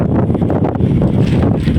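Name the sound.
strong wind by a river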